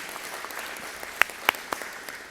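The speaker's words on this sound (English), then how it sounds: "we should honor Flynn with some claps" Clapping from the audience at a school board meeting to honor a student who placed third in a reading event. The applause is steady and moderate, with a few sharp, distinct claps standing out above it.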